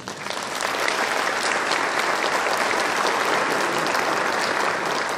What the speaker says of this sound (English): And give yourself a round of applause.